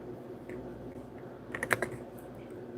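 Keyboard typing in a short burst of several close, quick keystrokes against a quiet room background, no voices.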